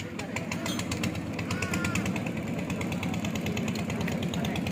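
A river launch's engine chugs in a fast, steady mechanical pulse as the boat approaches, running continuously at moderate loudness over faint background noise.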